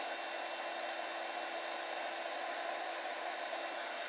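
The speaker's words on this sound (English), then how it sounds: "No waggling of the heat tool," A heat embossing tool blows hot air in a steady, continuous whirring hiss, close and constant throughout, with no talking.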